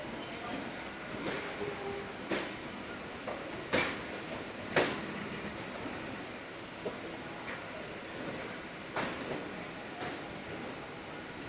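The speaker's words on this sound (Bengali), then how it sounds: "আমাদের ট্রেন কিন্তু ছেড়ে দিল একদম অন টাইম" A Sealdah to Dankuni local train pulls away from the platform on time, a steady rumble with scattered clanks and clicks from the cars as it gets moving.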